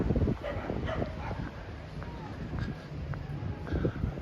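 A dog gives a few short barks and whimpering yips during an early-morning walk on a quiet beach, with wind rumble and faint voices in the background.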